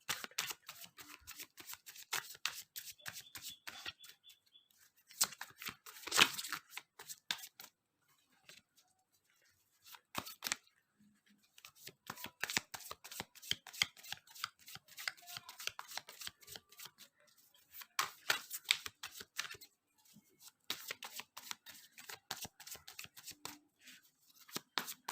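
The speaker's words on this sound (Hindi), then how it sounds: "कार्ड्स को मैं आप लोगों के सामने ही सफल करूँगी" Tarot cards are shuffled by hand in rapid, crisp riffling clicks that come in repeated bursts with short pauses. The sound is close and fairly soft.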